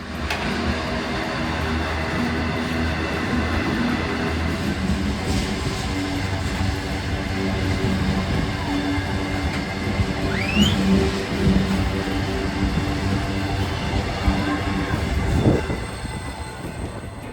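Steady low rumble of a loaded Canadian subarctic train rolling on rails toward Labrador, continuous clatter and drone with a brief wheel squeal partway through, close and fairly loud, no talking.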